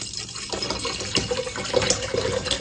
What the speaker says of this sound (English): I'm using plastic water bottles to pour into my Stanley Cup